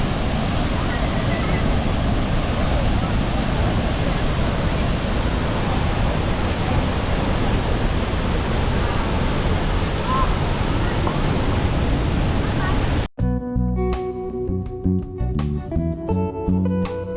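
Steady, loud roar of rushing cold water near rice fields in Bali, a dense unbroken wash that cuts off abruptly near the end into a different stretch of sound.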